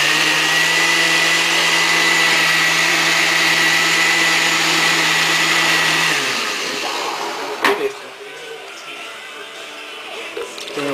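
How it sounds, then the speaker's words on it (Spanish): A blender whirring steadily to mix a screwdriver cocktail of orange juice and vodka, a loud constant motor whine that winds down after about six seconds, followed by a clunk and quieter room sound. "Vamos a batir un poco más."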